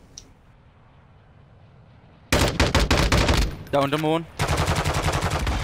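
Rapid automatic gunfire in Call of Duty MW2 DMZ on Ashika Island, loud bursts after a quiet start with a short pause mid-way, and a voice talking briefly over the shooting.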